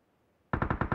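Rapid automatic gunfire from the mobile battle royale game BGMI, a loud close burst of about five evenly spaced shots that cuts in abruptly after half a second of near silence.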